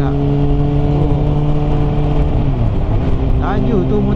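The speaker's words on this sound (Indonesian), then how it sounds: "laju tu motor Benelli" Fast-passing Benelli motorcycle heard from among traffic, engine tones sweeping down as it goes by, with car and engine noise throughout and voices talking over it.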